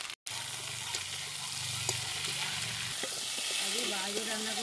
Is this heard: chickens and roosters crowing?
no